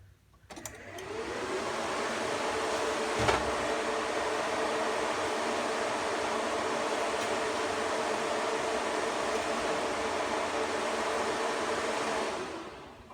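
Radiator cooling fans on a 2003 Infiniti G35 fitted with a racing radiator whir up to a steady, loud rushing drone of moving air. The sound holds constant for about twelve seconds, then cuts off.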